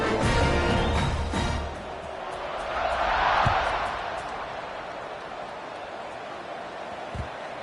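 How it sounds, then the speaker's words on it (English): A football stadium crowd at kickoff in a Week 13 game against Florida: a broad, distant roar that swells into cheering, then settles back to a steady murmur, with a couple of thuds. "Set to kick it off, and this crowd now ready to get behind them."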